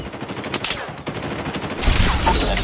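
A deployed sentry gun in Call of Duty Mobile rattles off rapid automatic bursts, loud and continuous, with other gunfire and battle noise layered around it.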